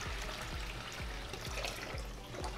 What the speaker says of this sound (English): you want to quickly put water on it,